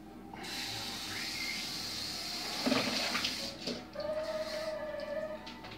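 A glass of water poured into a cooking pan of rib and chicken gravy, producing a sputtering hiss and bubbling splash that swells midway and settles into simmering, heard close up.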